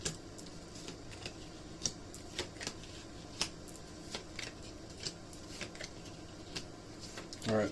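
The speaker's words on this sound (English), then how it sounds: "let me shuffle your cards one more time" Tarot cards being shuffled by hand, a series of soft, irregular riffling taps and flicks up close in a quiet room, ending with a brief, louder burst.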